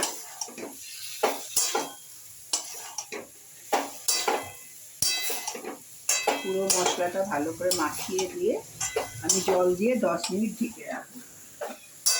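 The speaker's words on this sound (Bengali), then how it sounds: "এবারে আমি স্কোয়াশ আর আলুটাকে" Chunks of squash and potato go into a cooking pan and are stirred, giving sharp metallic clinks and scraping clatters in irregular bursts while someone talks over them.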